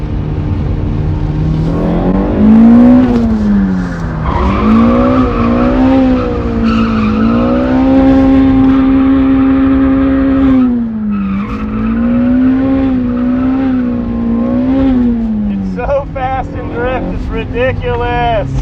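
A mid-engine car drifts with its engine howling hard through individual throttle bodies and a K&M intake filter, the rising and falling induction roar loud and close, with tyre skid noise and a voice speaking over it near the end.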